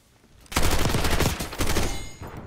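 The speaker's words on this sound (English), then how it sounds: "Felt like I got shot in the back as well." Rapid automatic gunfire in Call of Duty Black Ops 6 bursts in loud and close after a short quiet start, with a brief dip before a second dense volley.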